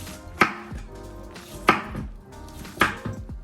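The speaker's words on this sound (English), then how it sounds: "we're gonna use half the onion in little wedges. Just cut them up along those lines." Knife cutting half an onion into small wedges on a cutting board: three crisp chopping thuds about a second apart, close and clear, with no talking.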